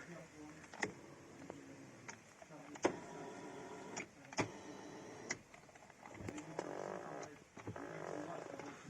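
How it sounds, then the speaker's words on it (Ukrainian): Electric seat motor in a 2008 Ford Mondeo raising and lowering the seat, a steady mechanical whir under sharp clicks and knocks inside the car cabin, fairly close. "електро сидіння, піднімання, опускання"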